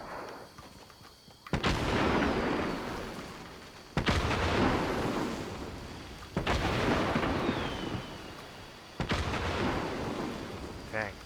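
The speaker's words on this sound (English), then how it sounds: "Should I shoot the old fireworks gun first?" Fireworks gun fired four times in a video game, each a sudden loud blast with a long rumbling, crackling decay, spaced about two to three seconds apart.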